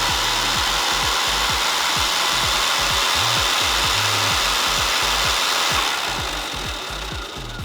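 Electric dirt bike fitted with a Grit Shift 420 chain drive running close by. Its chain makes a loud, harsh grinding rasp with rapid pulsing at the bottom end, then eases slightly in the final seconds.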